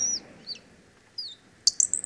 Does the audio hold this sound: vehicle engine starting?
no